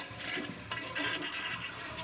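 Toilet flushing with its handle held down, a strong continuous close rush and gurgle of water draining through the bowl with a faint click near the start, no voices.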